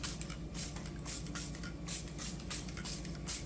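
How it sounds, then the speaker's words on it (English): A spray bottle mists a Jamaican Christmas cake with a run of quick, soft hissing spritzes, close and fairly faint, in an uneven rhythm. "so I'm gonna spray it a little bit more"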